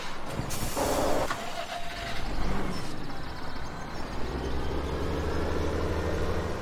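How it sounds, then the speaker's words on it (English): A tractor engine in Farming Simulator 17 idles and revs with a steady low drone, joined by a brief hiss like an air release and mechanical clunks near the start. "Now let's try that other tractor and see if it does better with the plow."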